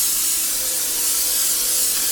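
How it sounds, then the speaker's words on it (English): A steady aerosol hiss of cooking spray greasing baking pans sprays continuously for a couple of seconds, close and fairly loud. "I'm just going to use spray on mine"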